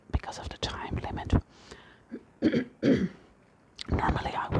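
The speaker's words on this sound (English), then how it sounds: "Normally I would edit out all the coughing" Harsh throat clearing and a couple of rough coughs come close to the mic, mixed with breathy whispered speech and short pauses.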